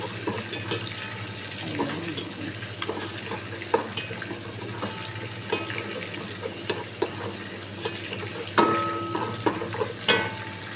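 Aromatics sauté in oil left over from frying fish, a busy sizzle under frequent clinks and scrapes of a utensil against the pan, close and fairly loud with no talking.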